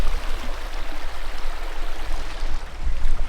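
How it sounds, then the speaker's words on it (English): A river flowing steadily close by while feet dangle in the cool water, a continuous broadband rush of moving water with no speech, loud and even throughout. "The river does what it does, it just flows."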